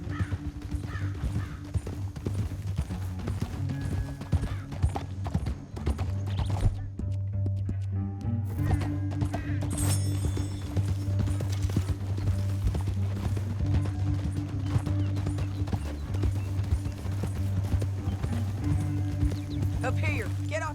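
Horse hooves clip-clop through a canyon in the video game Red Dead Redemption 2, steady rhythmic hoofbeats carrying under continuous music and game sounds, with characters talking over them.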